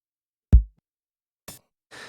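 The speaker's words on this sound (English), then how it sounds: "I have a kick and a little percussion here." A sparse trip hop beat arrives as one deep, booming kick drum followed by two short, crisp percussion hits, dry and close with silence between them.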